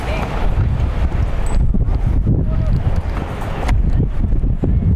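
Strong gusts buffet the microphone beside an outdoor youth soccer field, producing a heavy, low, rumbling roar that fluctuates throughout, with faint game sounds mixed underneath.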